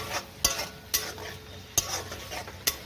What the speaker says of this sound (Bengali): এবার টক দইকে ভালো করে আমি ভেজে নেব মশলার সাথে